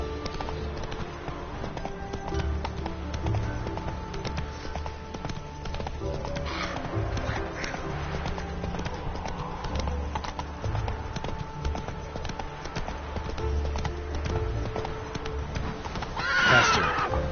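Roach, the horse in the video game The Witcher 3, gallops with a continuous rhythmic clip-clop of hooves, and a neigh sounds out near the end over the steady game ambience.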